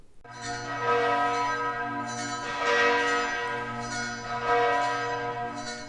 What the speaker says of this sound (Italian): Anche le campane del seminario, insieme alle campane della cattedrale e a tutte le campane della diocesi, nella giornata di lunedì hanno voluto rendere omaggio a Papa Francesco